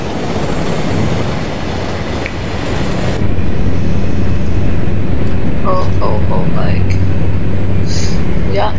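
A train passes by in American Truck Simulator as a loud, steady rumbling roar under someone talking, easing to a lower hum partway through.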